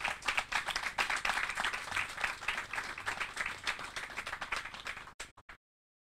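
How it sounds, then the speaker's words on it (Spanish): An audience at an open interview event with Air Force nurses claps in a steady, loud round of applause that continues for about five seconds before stopping abruptly. "Un fuerte aplauso, por favor."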